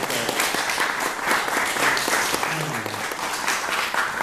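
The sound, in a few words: wedding guests applauding after a toast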